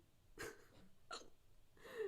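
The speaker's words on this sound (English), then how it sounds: "I had the hiccups again" Three sharp, close hiccups spaced roughly evenly over two seconds, each a brief voiced gulp standing alone against a quiet background.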